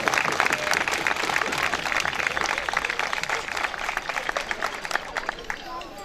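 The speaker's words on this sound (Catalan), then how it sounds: "un aplaudiment per ells necessari per dur a terme" A crowd at a Diables dels Hostalets de Pierola exhibition and sponsorship event in 2020 breaks into dense, sustained applause that stays loud throughout.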